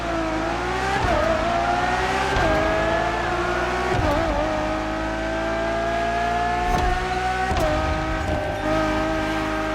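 Ferrari Enzo supercar engine in The Crew Motorfest racing game revs hard and loud, climbing through several gear shifts with sharp dips between pulls and a steady high-pitched whine, with no talk over it.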